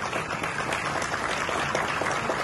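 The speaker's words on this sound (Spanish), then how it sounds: "con el aplauso de todos los presentes" Steady applause from a crowd gathered at the inauguration of a free trade zone, a dense even patter of many hands clapping throughout, moderately loud with no speech.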